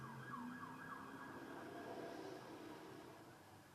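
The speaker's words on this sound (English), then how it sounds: "This is like the 4th time I done heard the damn sirens or something tonight." A siren wails in the distance, its pitch rising and falling steadily over a constant background rumble of traffic.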